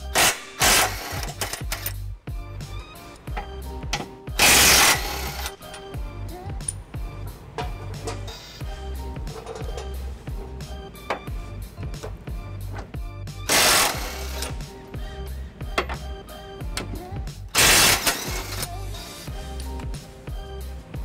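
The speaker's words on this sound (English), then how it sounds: "I've got a 21mm socket here to undo these bolts." A socket driven by a power tool loosens bolts on a 2016 Dodge Durango during trailer hitch installation, giving a rapid buzzing chatter with several louder bursts spread across the stretch, close and without talk.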